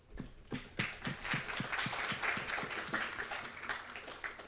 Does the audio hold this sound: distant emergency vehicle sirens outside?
no